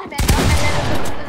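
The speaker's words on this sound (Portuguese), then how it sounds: "não tá aguentando mais o barulho dos tiros das armas" Rapid bursts of video game gunfire crackle loudly and continuously, a dense volley of shots with no pause, close and harsh.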